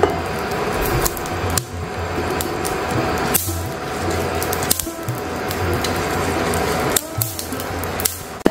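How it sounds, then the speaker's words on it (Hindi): Melon seeds roast in a pan over a low flame for a Janmashtami mewa paag, giving a steady close crackle with sharp pops and clicks scattered through it. "इसे हम 3 से 4 मिनट तक भून लेंगे धीमी आंच पे, जब तक कि इसमें से पिट पिट की आवाज ना आने लगे।"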